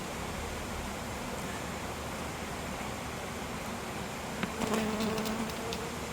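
Honey bees buzz steadily around an opened hive during an inspection, a soft, continuous hum of many insects with a few brief handling clicks and a louder burst of nearby buzzing toward the end.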